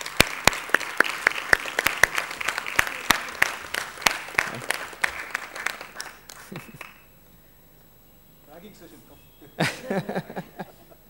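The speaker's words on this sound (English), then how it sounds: "give a round of applause to our new members of the Alumni Association" At an alumni general body meeting, an audience gives a round of applause to new alumni association members. Dense clapping lasts about six seconds, then fades into quiet room sound and a speaker talking.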